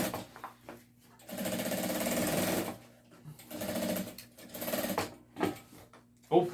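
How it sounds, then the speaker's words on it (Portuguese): Sewing machine stitching stretched elastic onto a delivery bag, running in several bursts of steady rapid clatter separated by pauses, close and fairly loud. "Eu vou finalizar essa costura e mostro pra vocês aqui como é que fica."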